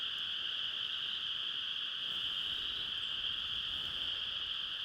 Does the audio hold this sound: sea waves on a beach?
no